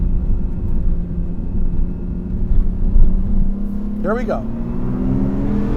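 Low, steady engine drone of a Nissan R32 Skyline building speed, with a rising tone near the end as it pulls through the gears; a voice speaks briefly over it.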